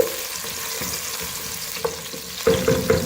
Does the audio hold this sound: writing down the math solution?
no